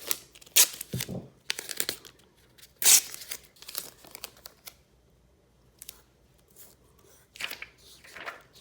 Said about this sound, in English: Now I want to tape this down to a tile.